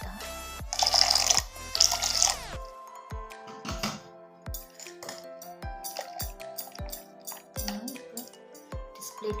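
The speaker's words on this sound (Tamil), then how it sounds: "இதில் கொஞ்சமாக தண்ணி ஆட் பண்ணிக்கலாம் லைட்டாக." Water splashes into a mixer jar while watermelon juice is made, with sharp clinks and drips from the jar, close and moderately loud, and a voice talking nearby.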